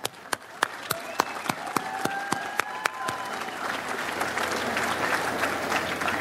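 Round of applause at a community college commencement: a few rhythmic single claps ring out over murmurs, then swell into broad, steady applause from a large crowd of graduates, with faint voices underneath early on.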